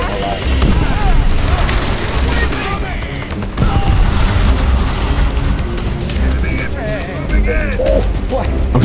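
Gunfire from the Call of Duty World at War campaign, with dense rapid bursts of rifle and machine-gun fire and booming blasts, loud and continuous throughout, with players talking over it.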